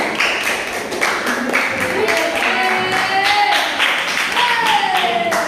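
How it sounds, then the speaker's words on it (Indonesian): Several people clap for David's group in a classroom setting. Dense, steady applause of many hands fills the space at close range over a thin background tone, with no speech over it. "tepuk tangan untuk kelompoknya David"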